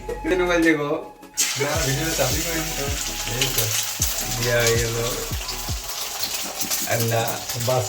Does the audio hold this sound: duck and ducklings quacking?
no